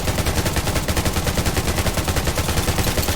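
Rapid automatic gunfire in the survival shooter Undawn, a loud, continuous stream of evenly spaced shots with no pauses, up close.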